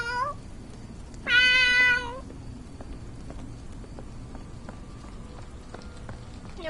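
A cat meows in a Sherlock Holmes video game: one clear, loud, drawn-out meow stands alone, with quiet game ambience before and after.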